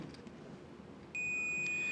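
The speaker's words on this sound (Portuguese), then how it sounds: "tem que fazer bip ou não tem que fazer bip?" A microwave oven part under test gives a single sharp electronic beep partway through, then holds as a steady high tone over a quiet room background.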